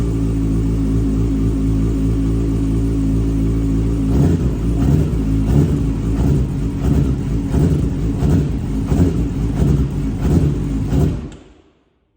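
A Yamaha R6 motorcycle engine runs an automatic warm-up sequence from a Translogic Blip assist, idling steadily and then blipping the throttle in a rapid run of short, evenly spaced revs before cutting off.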